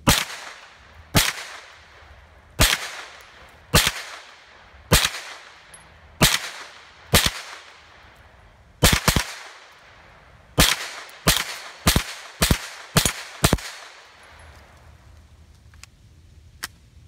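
A Kel-Tec Sub 2000 9mm carbine fires about fifteen sharp, loud shots, spaced irregularly at first and then coming in a quicker string, each with a brief echoing tail.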